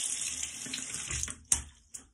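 A shaving brush is briefly wetted under a gently running bathroom tap, a soft steady stream of water with a couple of sharper splashes near the end, close and fairly quiet.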